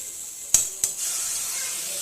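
Chili powder, turmeric and coriander being sautéed in a pan make a steady soft sizzle, with two sharp clicks of a spoon against the pan near the start.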